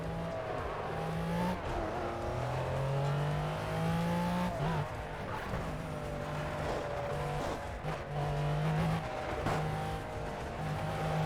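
A low-clearance car with a gold-lined engine bay revs its engine hard as the tires squeal, with a sustained roaring engine tone rising and falling under continuous screeching.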